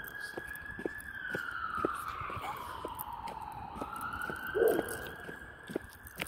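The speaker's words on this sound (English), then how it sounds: "Oh, I hear a siren coming down my house." An emergency siren wails faintly in the distance on a residential street, its tone sweeping slowly up and down, with soft sounds and light talk close by.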